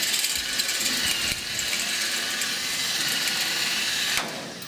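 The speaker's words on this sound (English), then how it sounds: "notice I'm rotating the drill around. My goal is to break the head off." A power drill whines steadily at close range with a continuous grinding, chattering mechanical tone as it drills off a rivet head while building an Onex aircraft, pausing briefly once.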